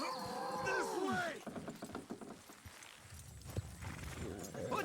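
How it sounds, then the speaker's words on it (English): Horses haul a house down in Red Dead Redemption 2, with hoof clip-clop, creaking and straining timber and mechanical rattling under a busy game soundscape, close and fairly loud. "Horses will pull it clean down."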